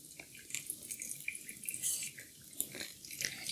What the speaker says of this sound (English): We want to make sure all of our grounds are evenly coated with water.